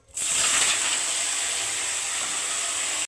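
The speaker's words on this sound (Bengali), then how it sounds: "এবার মাছগুলো ভালো করে ভেজে নেব" Fish hits hot oil with a sudden loud burst of sizzling that settles into a steady, close frying hiss, with no talking.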